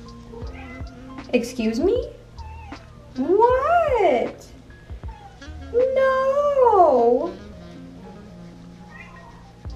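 A kitten meows loudly three times in drawn-out, rising and falling cries at close range, with a person speaking briefly between the meows.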